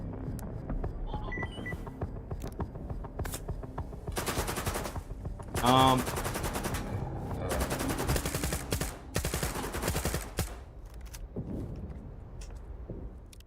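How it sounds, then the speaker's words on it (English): Rapid bursts of gunfire in the video game Stalker 2 rattle almost continuously, loud and close, with a brief ringing tone in the middle. "maybe they shouldn't run in front of the hail of gunfire"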